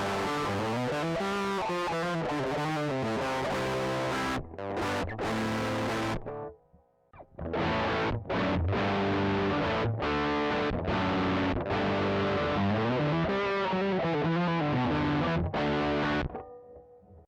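Electric guitar through a drive pedal into a DI box with a cabinet simulator plays distorted chords and riffs, loud and close, with short pauses between phrases.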